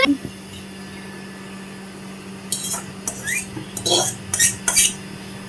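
Freshly washed plates knock and clatter together in short bursts as they are handled, with a low background hum.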